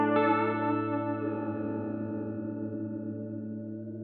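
A Fjord Fuzz Loke guitar fuzz pedal produces a sustained, buzzing distorted tone with a sharp attack that slowly decays and wavers, set up to imitate whale calls.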